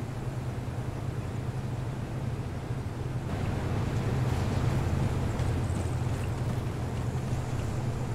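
A boat engine hums steadily in a video game, a continuous low droning rumble with a broad wash of wind and water noise over it, holding at an even level throughout.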